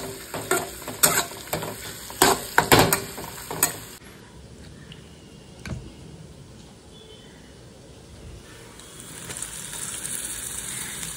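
Ground cumin, turmeric, coriander, salt and lentils frying in a pan, with a few brisk stirring scrapes at first, then a steady low sizzle that swells near the end.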